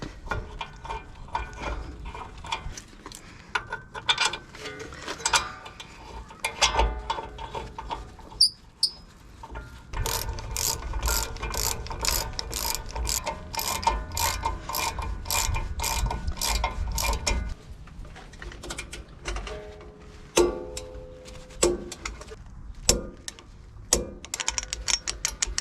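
A ratchet wrench tightens the rear brake caliper bracket bolts on a 2019-2024 RAM 1500, making bursts of rapid clicking with pauses, metallic rattles and handling noises in between, close up and without speech.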